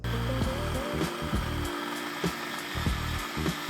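A blender whirs steadily, mixing vanilla praline with liquid vanilla and grapeseed oil until smooth, its motor droning close and constant with faint rhythmic pulses.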